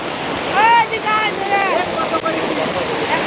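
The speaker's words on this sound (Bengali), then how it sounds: "এই জায়গাটাতে দেখবেন পানির স্রোত কিন্তু অনেক বেশি" The strong current of the Padma river rushes in a loud, steady wash with gusty wind on the microphone, while someone talks over it.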